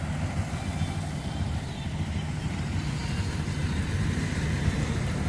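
A tyre-grip paddy harvester cuts paddy in a rice field, giving a continuous low mechanical drone at moderate distance with no breaks or voices.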